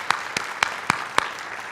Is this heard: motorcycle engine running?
no